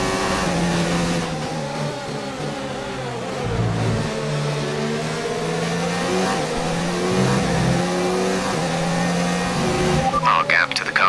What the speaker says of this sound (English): Whoa, the acceleration from Perez